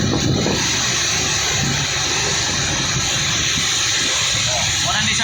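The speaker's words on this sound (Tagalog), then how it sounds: "Kasaruro Falls." Kasaruro Falls, a waterfall about 100 feet high in Valencia, Negros Oriental, roaring as a loud, steady broadband rush of falling water with no break.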